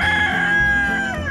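A rooster in an okra garden crows once, loud and close, in a single sustained call with no other sounds.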